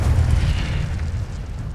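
A fiery Incendio spell blast in a Harry Potter–style game, a loud, rumbling, low explosion that rolls on for nearly two seconds, close and alone.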